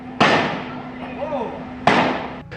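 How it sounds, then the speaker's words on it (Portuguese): Two sharp gunshot-like bangs about 1.7 seconds apart ring out loud and near, each decaying over a second, during a police confrontation with a man. "É possível ouvir tiros."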